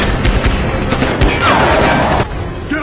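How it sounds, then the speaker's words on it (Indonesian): Rapid gunfire crackles through an action film scene as soldiers fire on a fleeing vehicle during a chase, a loud continuous volley of overlapping shots with booming impacts. "Kendaraan mereka dikejar dan dihujani tembakan oleh pasukan Taglia."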